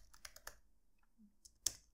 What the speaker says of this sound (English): I'm gonna type like description